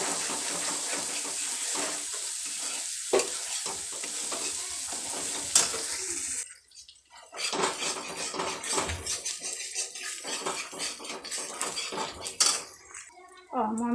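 Spices fry and sizzle in a pan while a utensil stirs and scrapes against it, with steady crackling broken by clattering metal knocks and a short quiet gap midway.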